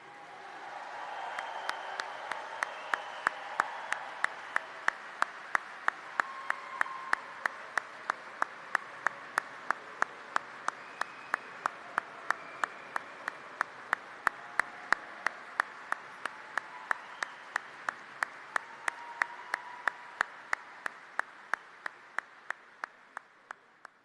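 Audience applause greets former Packers running back Ahman Green at the Green Bay Packers Hall of Fame induction ceremony, with steady sustained clapping from a large crowd filling the hall, loud and continuous throughout.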